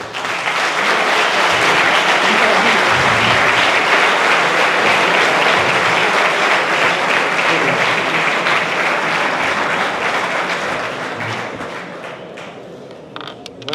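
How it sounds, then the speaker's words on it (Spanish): Sustained, loud audience applause at a conference talk, dense clapping from a crowd that stays strong for most of its length before tapering off near the end. "un aplauso para ellos"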